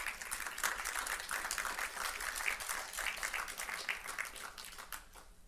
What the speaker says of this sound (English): Why don't you give them another round of applause?